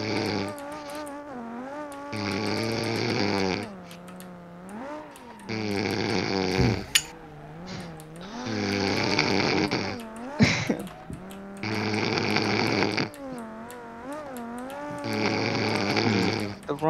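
A person snores in bed in long, loud, rumbling breaths that repeat at a steady rhythm, each lasting a second or two with short quiet gaps between them, with faint game sounds in the background.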